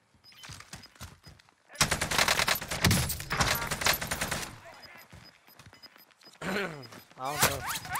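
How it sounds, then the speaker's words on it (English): Rapid bursts of automatic gunfire and single shots in a first-person shooter video game, loud and dense in the middle, with a voice talking over parts of it. "I was shooting at somebody."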